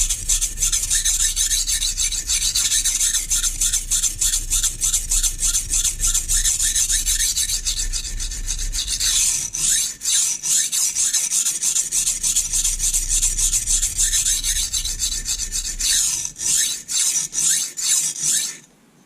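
A kitchen knife drawn again and again across a sharpening stone, giving fast rhythmic close gritty scraping strokes that run steadily for a long stretch before stopping.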